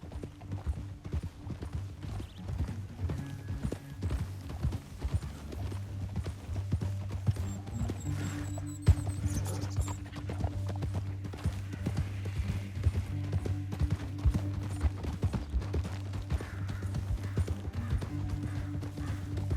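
Steady clip-clop of horse hooves on a trail in the western game Red Dead Redemption 2, an even rhythmic walking pace running throughout at low, moderate loudness beneath a faint low ambient hum.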